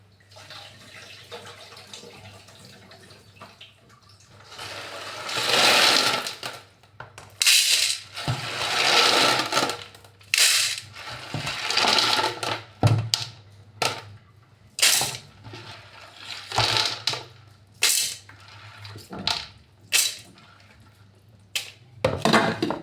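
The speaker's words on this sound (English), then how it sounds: "Now I'll wash my beans" Dry beans being washed by hand in a bowl of water for githeri: repeated sloshing, swishing and rattling bursts, loud and close, coming in an uneven rhythm with short pauses between them, no talking.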